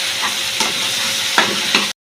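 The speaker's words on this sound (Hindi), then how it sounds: "एंड सेम हाई फ्लेम पर हम इसे स्टर करेंगे।" Pasta ingredients with chili sizzle loudly in a pan over high flame. The hiss is steady and close, broken by a few brief scrapes of stirring.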